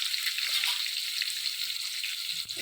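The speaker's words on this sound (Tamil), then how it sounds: "ஸோ இதெல்லாம் நல்லா பொன்னிறமாக வறுத்து வரணும். ஸோ இது நல்லா வதங்கட்டும்." Onion, curry leaves and green chillies fry in a pan for upma, giving a steady high, hissing sizzle throughout with a brief soft knock near the end.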